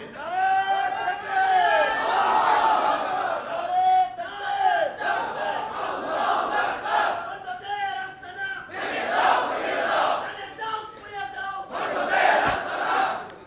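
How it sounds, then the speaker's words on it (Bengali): A large crowd chants slogans in unison at a religious rally in Bangladesh, loud rhythmic shouted phrases rising and falling in waves, with a lead voice calling and the mass answering. "এবার স্লোগান হবে"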